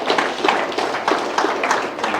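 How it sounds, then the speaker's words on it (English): An audience gives a round of applause for a young girl at a spring summit, the clapping loud and close with steady, dense claps throughout. "let's give this young girl a good round of applause here"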